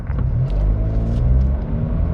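A 78-horsepower car pulling away hard from a green light, a loud close engine rumble and rising drone held steady from start to finish, with no talking.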